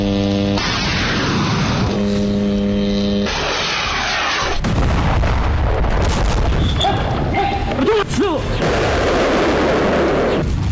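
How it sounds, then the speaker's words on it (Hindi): War footage of airstrikes and ground combat, with loud, dense bursts of gunfire and heavy artillery booms that follow one another and fill the whole stretch. A voice talks partly over the noise. "कहीं आसमान से एयर स्ट्राइक तो कहीं जमीन पर आर पार की बारूदी फाइट।"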